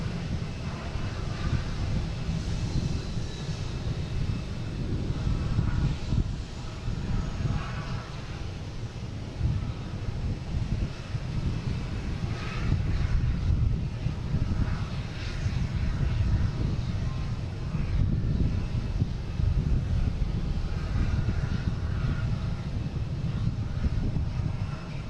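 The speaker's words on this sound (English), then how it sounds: "We have a A321 Delta heading to Atlanta" Delta Airbus A321 jet departing Boston Logan for Atlanta, a steady low engine roar with wind buffeting the microphone, fairly constant in level throughout.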